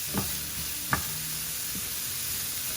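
Shallots sauté in a pan for mushroom pasta, giving a soft, steady sizzle with a couple of brief utensil knocks, faint and close, with no voices.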